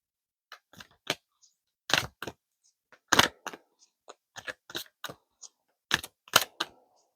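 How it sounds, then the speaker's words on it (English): Tarot cards are shuffled by hand, giving close, crisp riffling bursts and soft slaps in an irregular rhythm with short pauses between them, over a quiet background. "Excuse the long shuffling."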